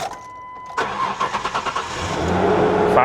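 A 2024 Subaru engine cranks with a quick rhythmic series of turnovers, fires up and settles into a rising steady run, close and fairly loud, alone without speech.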